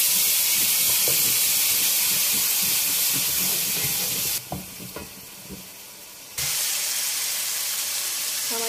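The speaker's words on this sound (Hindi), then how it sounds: "दरमियानी साइज के आप प्याज ले लें और उसको अच्छी तरह हमें भूनना है।" One medium-sized chopped onion frying in a pan for a besan curry, a steady hissing sizzle with scraping stirs that briefly drops away and then returns at full strength.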